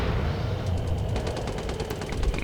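In the tank game Gunner HEAT PC, a glitched sound loops from a destroyed M113 armoured vehicle: a dense, rumbling, crackling roar with rapid gunfire-like bursts, continuous and fairly loud.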